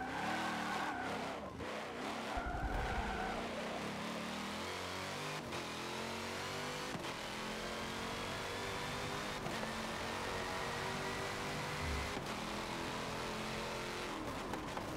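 Race car engine from Forza Motorsport 7 pushed hard through a fast lap, droning steadily with rising and falling revs through gear changes and brief tire skids, loud and continuous throughout.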